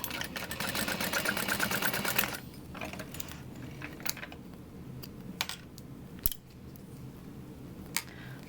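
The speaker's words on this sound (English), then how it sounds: "you can sew the top edge and the side angled edge" A sewing machine runs steadily for about two seconds, stitching the top and angled side edges of a fabric sling, then stops, followed by scattered light clicks and handling taps in a quiet room.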